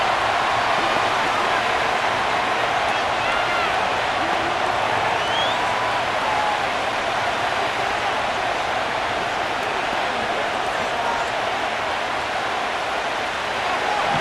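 Constant stadium crowd roar in a Madden NFL 25 simulation of the Tennessee Titans against the Denver Broncos, a dense, even wash of cheering that holds at steady loudness for the whole stretch without pause.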